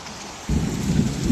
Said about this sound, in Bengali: এই দেখো মিডিয়াম বৃষ্টি হচ্ছে, খুব জোরে না আর খুব আস্তেও না।